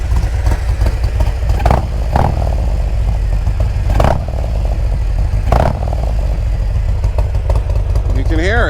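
Harley-Davidson Road Glide Ultra with Rinehart exhaust, loud and close, revving in several sharp bursts over a rumbling idle, with a person talking over it.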